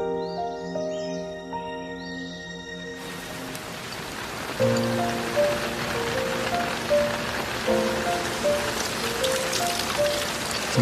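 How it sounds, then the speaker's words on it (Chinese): Steady rain pattering on surfaces around an old house with a leaking roof, a continuous wash of drops that starts partway through as background music fades out, with faint musical tones over it. "怎么还落雨了呢？"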